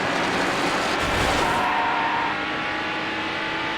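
A race car in Need for Speed Hot Pursuit 2 gives a steady, fairly loud engine whine and road roar that eases off slightly partway through, with no voices.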